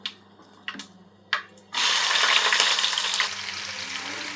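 Sliced onions hit hot oil with whole garam masala and burst into a loud, steady sizzle after a few light clinks of a pan, for a gongura meal-maker pulao.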